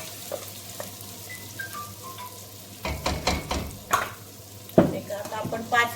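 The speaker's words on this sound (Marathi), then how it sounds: "आता आपण 5 मिनिट हा परतून घेणार आणि आपण छोले आणि ते बटाटा घालणार आहोत त्याच्यात." Masala for chole curry being sautéed in a pan, a quiet background sizzle that turns louder midway with bursts of stirring scrapes and clinks against the pan, no speech.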